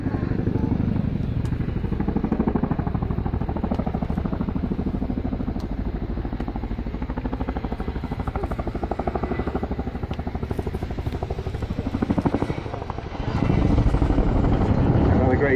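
An RAF Chinook helicopter flying a quick stop manoeuvre at an air day display, its heavy rhythmic rotor chop steady and loud from a distance, with a commentator talking over it.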